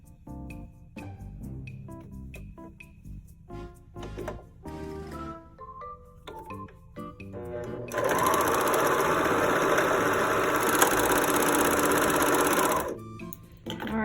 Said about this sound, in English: how I do it with the serger